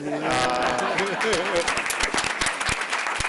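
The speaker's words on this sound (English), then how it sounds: "can we have a round of applause for the 20 people who weren't introduced?" Applause at a Franklin Township, New Jersey council reorganization meeting: a speaking voice at first, then a spread of scattered hand claps from the room rising through the rest of the moment.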